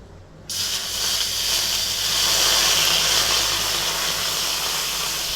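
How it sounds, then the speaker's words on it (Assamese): Water poured into a hot karahi (wok) before powdered milk is added gives a loud, steady hiss that starts abruptly after half a second and keeps sizzling for about five seconds, with no talking. "এতিয়া কেৰাহীটো গৰম হৈ গ'ল, এতিয়া মই ইয়াতে অকণমান পানী দিম।"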